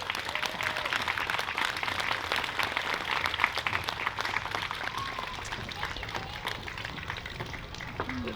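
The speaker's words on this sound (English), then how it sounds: "So let's give them a DeMille round of applause." At a ten-year anniversary celebration, an audience gives a continuous round of applause, a thick, even patter of many hands clapping at a moderate distance, with little talk above it.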